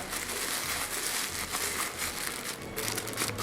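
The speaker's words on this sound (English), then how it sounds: "So do you see I took this bag, okay? Just a plastic bag." A thin plastic produce bag crinkles and rustles steadily as it is handled up close, a continuous dry crackle with no talking.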